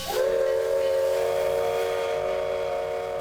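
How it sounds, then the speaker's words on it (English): A steam locomotive's whistle sounds in one long, steady, piercing blast, close and loud, over a continuous hiss of escaping steam. "Steam locomotive is alive."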